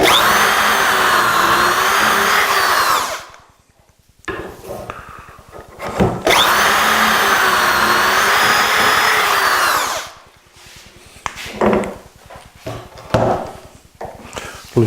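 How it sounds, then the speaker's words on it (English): Power drill boring dowel holes in the wooden top plate of an armoire, two loud sustained drilling runs with a steady whine separated by quieter clunks and handling noises, close by. "So we're going to drill 3 and 4."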